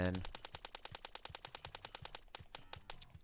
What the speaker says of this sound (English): a different type of gun is the blasters